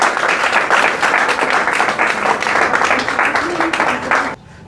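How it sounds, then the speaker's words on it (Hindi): An audience at an event gives enthusiastic applause, loud dense clapping that carries on for about four seconds before cutting off sharply. "एक बार आप लोग ज़ोरदार तालियां बजाएं।"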